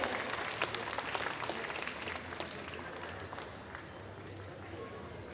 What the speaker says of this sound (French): Et on l'applaudit encore bien fort.